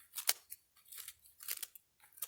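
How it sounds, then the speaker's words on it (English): Scissors snip through fresh green smartweed herb stems in a series of crisp, close cuts, five or six quick crunching snips with short pauses between, no talking. "Just take your scissors, cut it up."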